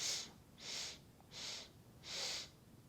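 Four slow, even breaths drawn in and let out during a box-breathing yoga exercise, near and soft but clear against a quiet room.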